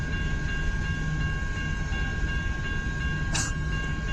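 CN freight train hauling coal cars past in Kimball Township, a continuous heavy rumble with a high metallic whine, close and loud, with one brief sharp squeal partway through.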